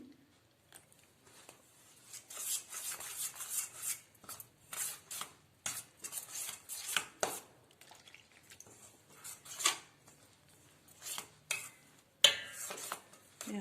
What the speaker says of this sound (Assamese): তেতেলী পানী অলপ অলপকৈ দি মিহলাই থাকিম